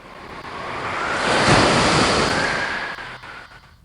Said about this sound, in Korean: 성난 파도가 배를 집어삼키려고 해요.